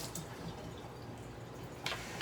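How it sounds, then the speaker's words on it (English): A rose bath bomb fizzes and bubbles in a bowl of water, giving a steady soft hiss of small bubbles and faint drips, with a brief brighter splash near the end. "So the bath bomb is spinning and turning inside the bowl here."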